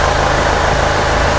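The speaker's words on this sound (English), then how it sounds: "So I have started the car." A car engine idles steadily right after being started, ahead of an engine flush with Liqui Moly additive, giving a continuous low rumbling drone with even vibration and no voices.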